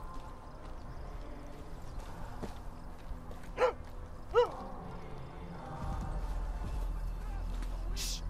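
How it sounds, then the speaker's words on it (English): A companion dog in a video game gives two short barks in quick succession, moderately loud over a low game ambience, with a rumbling background that swells near the end. "Is that your companion dog?"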